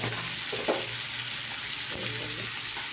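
Chilli sizzles with cumin in a hot pan, a soft, steady frying crackle with a couple of light stirring knocks, fairly quiet and close.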